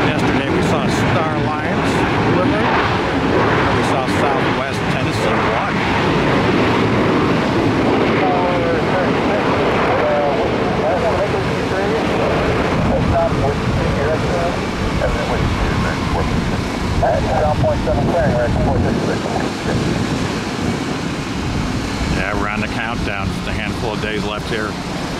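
A United airliner going around over the runway at Tampa airport, a broad, sustained jet engine roar that swells and rumbles steadily for the whole span, with wind buffeting and voices talking over the engine noise.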